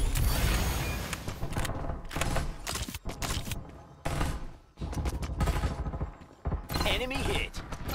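Gunfire in Farlight 84, dense loud bursts of automatic shots broken by short pauses, close and dominant over other game sounds.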